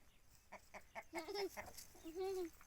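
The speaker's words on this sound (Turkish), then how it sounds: "Bak tavuklar korktu senden Ahmet Seyit." Chickens cluck nearby in a quick series of short clucks followed by a couple of longer, drawn-out calls, fairly quiet with no talking.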